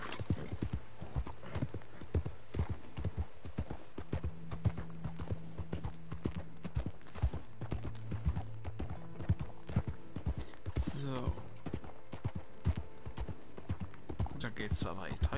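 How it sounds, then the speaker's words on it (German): Horse hooves clip-clop steadily in a PS4 cowboy video game while riding, a brisk regular rhythm that runs throughout, with someone talking over it and a short whinny near the middle. "dann reiten wir auch weiter Kralle aus"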